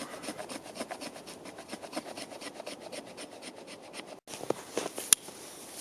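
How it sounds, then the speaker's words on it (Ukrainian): Steady rhythmic scraping as the spine of a Ganzo G720 folding knife rasps thin shavings off a piece of wood outdoors, repeated strokes close up, ending with a few sharper scratches. "Лезом ми також можемо наскріпти таку стружку, але нащо нам витрачати гостроту нашої заточки, якщо ми можемо це робити спокійно обухом."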